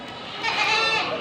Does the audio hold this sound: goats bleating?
yes